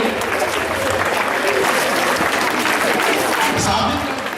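Steady, dense clapping from a crowd at a children's science congress in Chamba fills the whole stretch, loud and continuous without a break.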